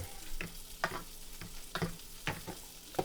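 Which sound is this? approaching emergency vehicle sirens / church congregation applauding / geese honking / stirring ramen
stirring ramen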